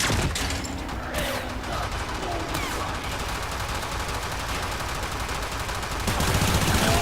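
Sustained gunfire in Warframe, dense rattling automatic shots and mechanical clatter running continuously and loudly throughout, with no talk over it.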